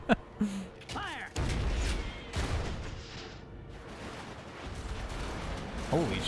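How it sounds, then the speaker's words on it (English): Cannon fire in Final Fantasy X booms loudly several times in succession, with rumbling blasts and sharp impacts, amid game sound effects and faint voices. "That's a lot of cannons."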